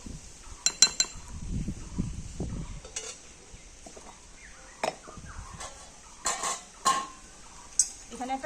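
A metal bowl is handled while homemade hair oil is prepared, with scattered clinks and clanks of dishware and utensils, a soft scraping stir, and pauses between the sharp, close knocks.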